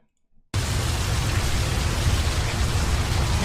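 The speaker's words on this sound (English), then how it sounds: "Rain falling like the tears of angels." Heavy cold rain pours at night, a dense loud hiss that bursts in abruptly after a brief silence and holds steady to the end.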